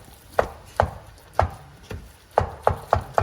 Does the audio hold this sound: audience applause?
no